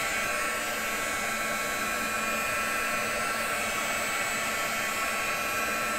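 A hair dryer blows steadily and loudly throughout, drying wet inks on an acetate sheet, a continuous close whooshing hiss with no pauses.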